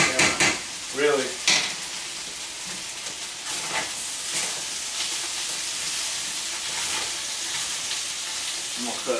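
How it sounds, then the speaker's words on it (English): A spoon stirs melting cheese and sour cream in a hot pan for a shrimp, sausage and potato bake, with a steady sizzle and hiss throughout and a few louder scraping bursts near the start. "I'm just trying to melt some cheese and get that sour cream mixed in"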